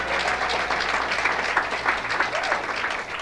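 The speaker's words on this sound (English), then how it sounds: "So give one more round of applause for Nancy Morejón." Audience applause at an evening poetry event in New York City, a dense, steady wash of clapping from a sizable crowd, sustained and even throughout with no voices over it.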